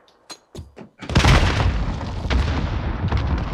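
A frag grenade going off in a video game gunfight, a loud booming blast after a few sharp gunshots, its rumble and debris trailing on as more shots crack through the tail.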